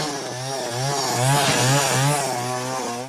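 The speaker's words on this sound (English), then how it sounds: "Lefty starts trying out chainsaws" Chainsaws revved in a store scene from the film The Texas Chainsaw Massacre 2, a loud close engine snarl rising and falling in pitch in steady surges throughout, with no talking.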